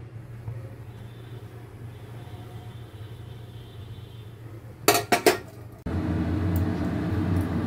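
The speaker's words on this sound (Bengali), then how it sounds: "আজকে সকালে জলখাবারে চাউমিন করব, তাই চাউমিন সেদ্ধ করছি।" Chow mein noodles boiling in a pot on a stove: a low steady hum, a brief cluster of metallic pot and utensil clinks, then a continuous broadband bubbling hiss that carries on to the end.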